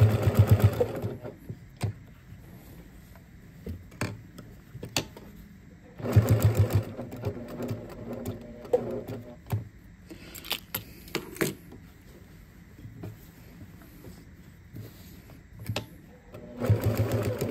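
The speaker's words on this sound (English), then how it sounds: "I'm going to stitch a square right around this" Sewing machine stitching old neckties into an apron, running in several bursts of steady stitching separated by short pauses and handling noises, fairly close and alone.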